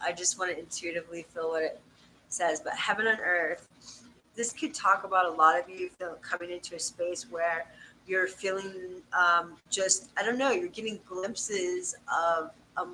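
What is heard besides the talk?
None of the usual background noises is heard.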